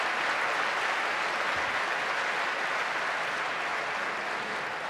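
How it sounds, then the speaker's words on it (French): An audience applauds a world Scrabble champion at an event, a thick, even wash of clapping from a large crowd that holds steady for about five seconds. "On va d'abord l'applaudir"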